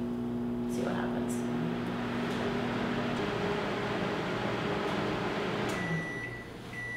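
A microwave oven fitted with a smoke sensor runs with a steady mechanical hum, then a thin, steady electronic alert tone starts near the end as the hum fades.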